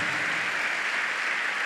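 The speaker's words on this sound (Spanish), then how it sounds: "Dale ese aplauso al Señor." Steady applause from a church congregation during a sermon, a dense continuous wash of clapping with no gaps, fairly distant and even in level.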